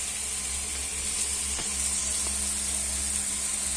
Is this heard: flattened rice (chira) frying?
yes